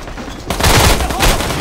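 Gunfire in the online shooter Metro Conflict, a sudden loud close burst of rapid shots starting after a brief quiet moment and continuing to the end.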